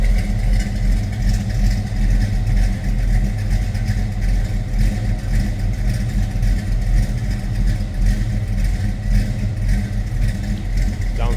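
A 1969 Chevrolet Camaro Z/28 engine idles in a loud, steady, close low rumble with a faint rhythmic lope, running unbroken for several seconds with no talking over it.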